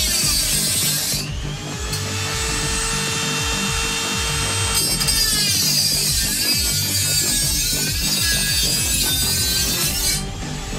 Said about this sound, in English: So we're going to go to the Dremel.